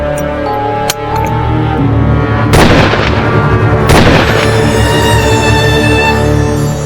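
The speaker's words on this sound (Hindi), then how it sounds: "गोली चलाओ।" Gunshots ring out in a jungle crime drama scene, with three sharp, loud reports spaced a second or more apart over a dense, sustained musical score.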